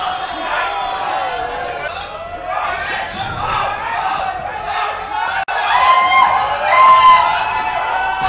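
A crowd at a Super Smash Bros. Melee tournament cheers and yells loudly and continuously, with a brief sharp click midway, then swells louder with whoops toward the end.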